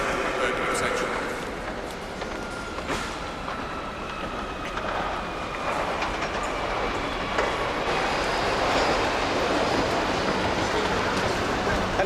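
A train rumbles in along a station platform with a steady, loud rolling roar and faint rail clatter, while muffled voices carry on beneath it throughout.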